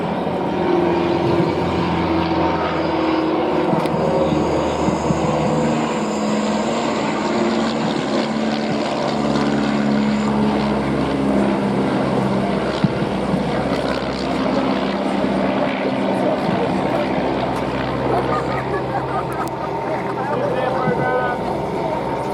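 A 1935-era vintage aircraft performs an aerobatic display at the Duxford Flying Legends air show, its propeller engine droning steadily and loudly throughout with slight shifts in pitch, under continuous commentary from an announcer.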